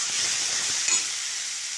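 Cabbage curry being stirred into hot oil in a pan, giving a steady close sizzle with a brief scrape of the spoon partway through, no voices.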